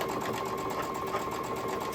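A sewing machine running steadily at close range, stitching a scrappy quilt block seam with half-square triangles, a continuous fast mechanical whir and needle chatter with no pauses.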